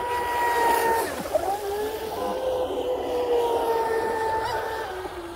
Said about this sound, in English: You can run this boat all day with that prop.